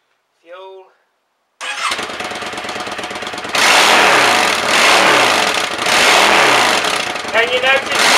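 Yamaha Dragstar motorcycle with a modified exhaust, not rejetted, starts up close and loud, then idles and revs in a rough, throaty rumble; a brief voice is heard before the engine fires and again near the end.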